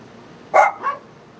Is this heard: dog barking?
yes